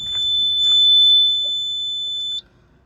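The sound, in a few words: horn of a 2019 Ashok Leyland Dost Plus truck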